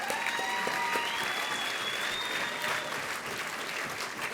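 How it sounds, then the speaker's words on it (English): Audience applause for the nominees at a 2010 documentary film awards ceremony, a sustained, even roar of many hands clapping at once, steady throughout, with a faint whistle-like tone riding above it. "How about a round of applause for all the nominees?"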